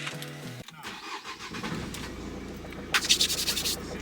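A car engine cranks and catches, then settles into a steady running rumble that swells briefly with a few revs toward the end; no one speaks.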